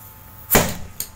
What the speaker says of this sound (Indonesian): Kita akan lihat bagaimana tekanan gas yang ada di dalam ya.